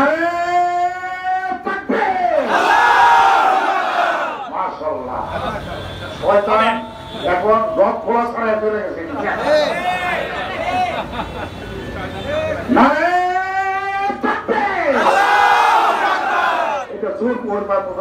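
A large crowd chants political slogans in loud, rhythmic call-and-response waves, many voices rising and falling together in an open rally setting.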